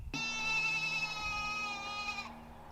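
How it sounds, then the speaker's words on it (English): A baby female goat kid bleats once, crying for its mother: a loud, close, sustained nasal cry of about two seconds that cuts off abruptly, with no talking. "The little baby girl goat"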